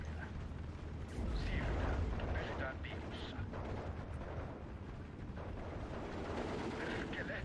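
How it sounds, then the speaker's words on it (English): Mortar and artillery fire in the WWII strategy game Steel Division 2, Karelia campaign: a dense, continuous rumble of distant blasts and gunfire with a heavier surge near the start, no single shot standing clearly apart. "they keep bringing in these mortars and stuff and it's kind of screwing me over"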